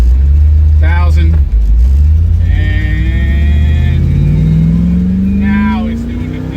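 A Chevy S10 pickup with a carburetor is power braked, its engine revving loud and close with a steadily climbing pitch as the revs build, while someone talks over it.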